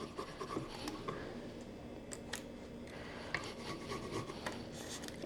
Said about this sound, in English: When you push and rub it over the vinyl, it will start attaching to the surface